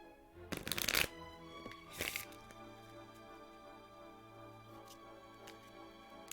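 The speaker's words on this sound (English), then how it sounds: "Do a little bit of shuffling." Cards from the One Deck Dungeon card game being shuffled up close, two quick riffling bursts followed by a few faint taps as the deck settles, with no talking.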